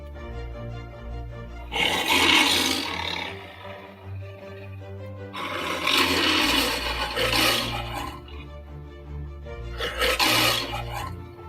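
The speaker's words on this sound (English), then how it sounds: "and the MGM's lion roar" The MGM lion roar trademark sound: three long, loud, rasping roars with short pauses between them, over a low sustained tone.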